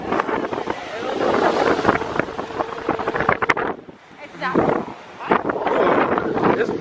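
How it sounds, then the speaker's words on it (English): Heavy wind buffets the microphone in loud gusts, with brief lulls between roaring bursts. "Windy."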